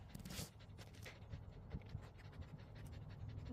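A dog pants steadily and close up, with quick rhythmic breaths and some scratching, no talking over it.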